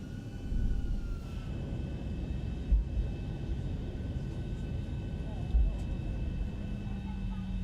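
Zibo Boeing 737-700 taxiing on the ramp at KSTL in X-Plane 11, a steady low jet engine rumble and hum with two brief thumps.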